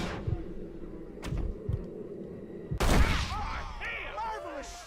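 Gunfire in the Red Dead Redemption video game: a few sharp shots early on, then a loud blast followed by ringing, whistling tones, with game voices faintly underneath.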